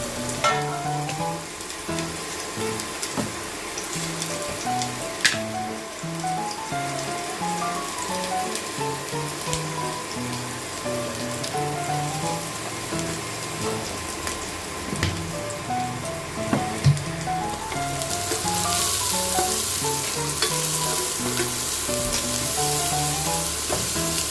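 Sliced onions for mutton curry, salted and cooking down in a pan, give a steady close sizzle and bubbling hiss with occasional stirring scrapes, swelling slightly louder near the end.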